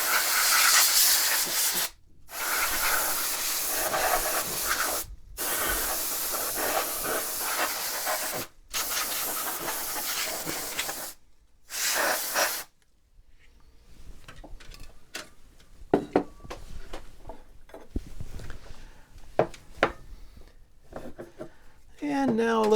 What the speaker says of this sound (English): We'll just spray a little compressed air in here.